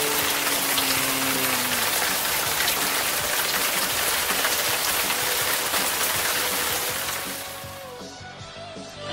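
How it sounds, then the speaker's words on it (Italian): Steady heavy rain falls in Caracas under an overcast sky, a dense continuous hiss of drops on surfaces that runs unbroken for several seconds before easing near the end, with no voices. "piove."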